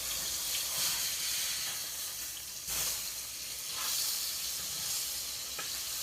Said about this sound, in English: Here's our burger patty sizzling up.